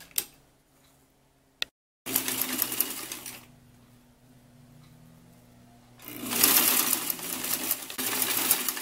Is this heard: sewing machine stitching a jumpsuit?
yes